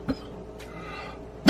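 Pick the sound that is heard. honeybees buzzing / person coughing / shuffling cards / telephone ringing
person coughing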